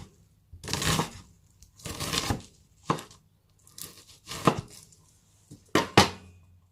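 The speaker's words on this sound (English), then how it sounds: "Now I'm turning the onion, using claw grip again to dice the other way." A kitchen knife dicing an onion on a chopping board, a series of crisp crunching cuts in uneven bursts, close and clear with quiet gaps between strokes.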